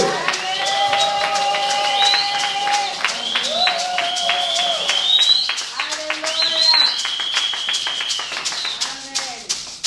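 A church congregation at a French-language service claps and cheers in a steady, dense burst of applause, with voices calling out and music tones over the top.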